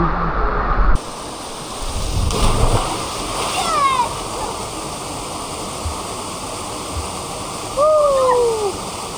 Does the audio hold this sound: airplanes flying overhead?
no